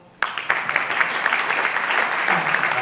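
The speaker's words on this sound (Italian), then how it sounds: "Giorgio Pagano, un applauso." Applause from an audience at a veterans' sports celebration in Spezia honouring the 1944 football championship, a dense, steady clapping that starts abruptly and continues loud and unbroken.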